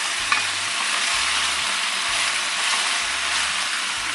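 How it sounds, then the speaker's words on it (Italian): Drained pasta with cauliflower hits a pan of soffritto, giving a loud, steady close-up sizzle and frying hiss throughout with faint stirring. "andiamo a versare la pasta con i cavoli nel soffritto"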